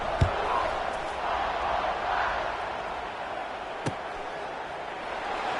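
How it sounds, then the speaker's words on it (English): A stadium crowd buzzes at a wet college football game in NCAA Football 26, a steady roar of fans with a couple of sharp thumps, under a commentator's voice. "this crowd is buzzing after that last score"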